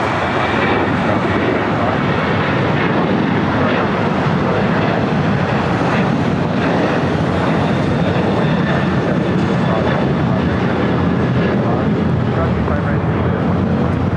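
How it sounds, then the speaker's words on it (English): Steady, loud roar of a Boeing 737-800 jet taking off at LAX, a broad continuous rumble with a faint whine above it that holds unbroken throughout, heard without voices. "Next takeoff is Alaska Airlines Flight 6 heading to Reagan National and a 737-800."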